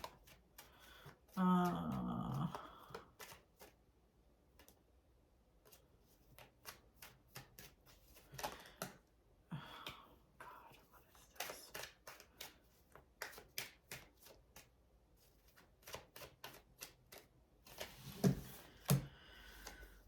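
Tarot cards shuffled by hand in irregular bursts of crisp riffling and tapping, close and fairly quiet, with pauses between passes.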